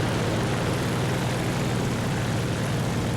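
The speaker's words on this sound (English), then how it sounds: "That's that P38 flying next to me, that's why I keep hearing the engine." Steady, loud propeller engine drone of a P-38 fighter flying alongside in War Thunder, a continuous broadband roar filling the whole stretch without letup.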